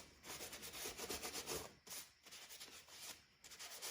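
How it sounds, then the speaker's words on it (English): Close, steady rasping strokes of 100-grit sandpaper rubbing back and forth over a 3D-printed figure, rhythmic with short pauses between passes. "about 5, maybe 7 minutes of sanding with the 100 grit."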